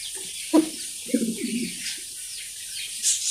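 Mundian pigeons on a farm give a soft low coo and a brief throaty burble, close and faint, among quiet chirps in the background.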